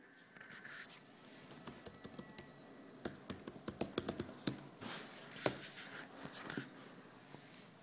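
Quick, light clicks of fingers typing on a MacBook Air keyboard come close and fairly quiet, in uneven bursts of rapid keystrokes with brief pauses.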